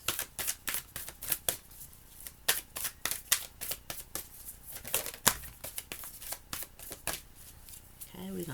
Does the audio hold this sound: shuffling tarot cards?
yes